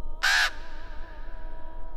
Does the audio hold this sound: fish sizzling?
no